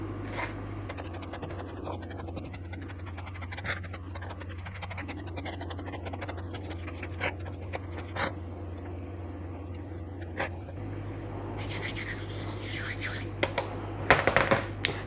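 Hands rubbing a crumbly mixture into a breadcrumb texture in a bowl, a soft continuous scratchy rustle with occasional sharper scrapes, close and quiet over a steady low hum.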